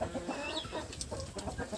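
Hens cluck in a backyard farmyard shared with ducklings and chicks, a steady run of short, overlapping clucks at moderate distance, with no talking.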